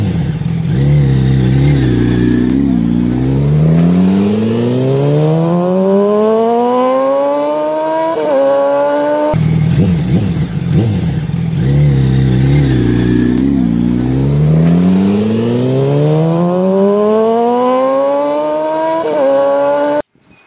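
A Bajaj V12 motorcycle drag races a 150cc bike, with loud, continuous engine roar rising in pitch through the gears in two long sweeping climbs, each ending in a brief shift drop, close and sustained throughout.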